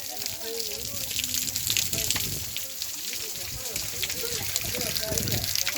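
Water rushes down a valley in a steady, broad roar from some distance, on a hilltop at Upper Ahobilam, with people talking over it.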